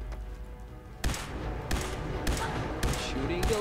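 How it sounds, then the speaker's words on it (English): Gunfire in the video game Fallout 4, sharp shots at about 1, 1.7, 2.3, 2.8 and 3.4 seconds, each loud and close over a steady in-game background rumble. "Shooting your leg and shooting your head. I'm shooting your face."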